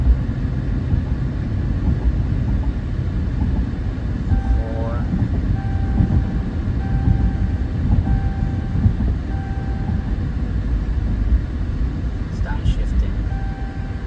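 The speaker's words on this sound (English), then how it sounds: "So right now it's shifted to second, and that's third gear right there." A 2012 Chrysler 300C with a 5.7L engine and five-speed transmission, carrying an incorrect gear ratio fault, heard from inside while driving: a loud, steady low road and engine rumble with faint tonal whines, under someone talking.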